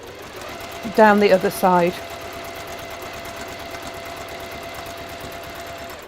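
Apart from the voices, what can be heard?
sewing machine chain piecing fabric triangles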